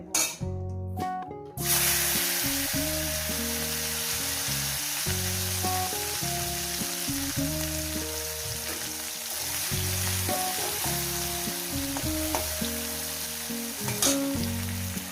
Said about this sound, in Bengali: মাছটাকে আমি ভেজে নিয়েছি